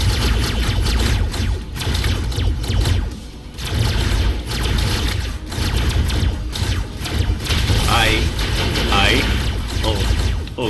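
Gunfire and weapon blasts in the Robocraft video game sound as dense, loud bursts of shots and booms that run the whole time, with someone talking over them.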